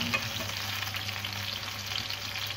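Chicken pieces fry in oil in an open pan for fish sauce fried chicken, a steady close hissing sizzle with no talking.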